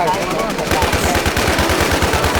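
Rapid automatic gunfire from the online shooter Warz, a fast run of loud close bursts filling the whole moment, with some speech mixed underneath.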